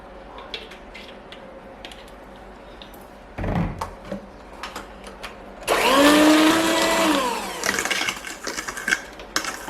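Electric mixer whirring loudly through lemon loaf cake batter, starting midway after quieter kitchen noises and a brief clatter, then running steadily before easing off with small knocks.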